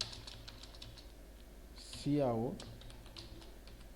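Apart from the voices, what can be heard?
typing code on a computer keyboard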